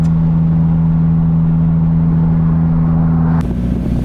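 Turbocharged Hyundai Genesis Coupe engine idling with a steady, loud, close droning hum and even low pulsing, its tone shifting slightly near the end.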